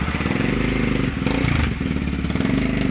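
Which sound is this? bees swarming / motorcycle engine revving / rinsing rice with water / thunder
motorcycle engine revving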